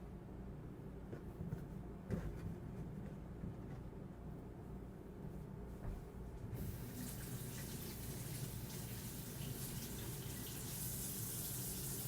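Vegetables rinsed under a running kitchen tap, a continuous close water stream that starts softer and becomes a brighter, louder gush partway through as the flow hits the produce and sink; no speech.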